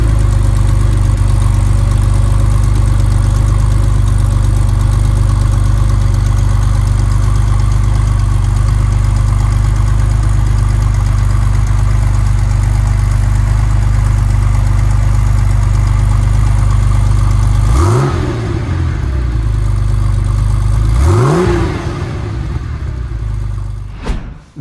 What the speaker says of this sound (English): Let's take a listen to that engine.